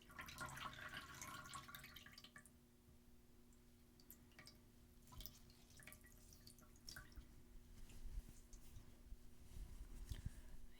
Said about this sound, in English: I like the sounds of water in plastic bowls